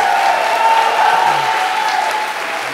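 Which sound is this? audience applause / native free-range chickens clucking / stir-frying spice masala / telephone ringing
audience applause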